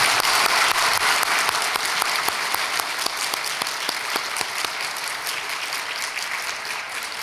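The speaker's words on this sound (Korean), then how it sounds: "박수로 환영하겠습니다" A church congregation claps loudly to welcome visiting high school students at a service, a dense, sustained burst of applause from many people that stays strong and even for over seven seconds.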